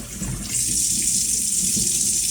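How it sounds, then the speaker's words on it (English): Hot water runs from a tap into a sink while a clogged drain is being cleared, a steady close rushing stream that swells slightly after the first half second and holds evenly to the end. "So I'm going to put it on hot water, get this filled up a bit."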